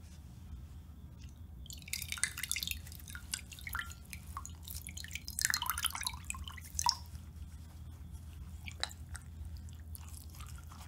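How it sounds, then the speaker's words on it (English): Cool water dripping and trickling as a rag is wetted, close and intimate, with irregular splashes, drips and soft wet squishing over several seconds. "I got you a rag. I'm gonna get it wet real quick, okay? Got some cool water for you."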